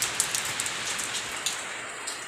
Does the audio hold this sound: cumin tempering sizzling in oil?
no